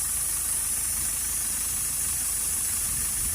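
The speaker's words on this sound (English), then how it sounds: "with the vehicle running, I can hear air escaping" Air hisses steadily from a leaking AdBlue injector on a running Toyota ProAce 2.0 diesel van, a continuous high hiss layered over the engine's low idle rumble.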